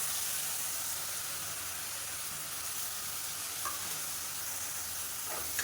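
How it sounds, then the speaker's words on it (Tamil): Ground shallot paste with ginger and garlic sautés in hot oil for chicken varuval, a loud, steady, close sizzle that holds without a break and has a faint stir or two. "அந்த வெங்காயம் இஞ்சி பூண்டோட பச்சை வாசனை போகிற அளவுக்கு வதக்கிக்கலாம்."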